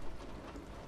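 Steady video game rain hissing down in a constant wash, fairly close and even, with no voices over it.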